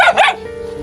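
A dog close by lets out two quick, sharp barks in rapid succession, loud and near, followed by a brief fading tail of sound.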